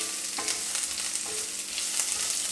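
Chopped medium onion sizzling in hot oil with potatoes in a pan, a steady close frying hiss with faint stirring scrapes throughout.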